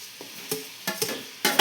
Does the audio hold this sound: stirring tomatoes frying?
yes